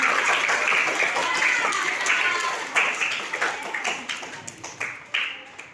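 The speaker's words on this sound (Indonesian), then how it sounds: "Tepuk tangan untuk Akram" Classroom applause for a student at a Banda Aceh primary school, a dense patter of many small hands clapping for several seconds, with a few louder claps standing out as it trails off.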